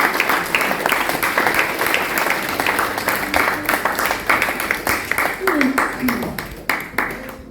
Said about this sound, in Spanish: Dale un fuerte aplauso porque Dios es grande.